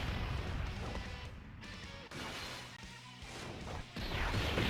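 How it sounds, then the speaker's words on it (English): Fireworks effect from the Dragon Ball Z Dokkan Battle video game, a dense run of crackling bursts and booming pops layered over game music, loud and continuous with a few brief dips. "Beautiful fireworks."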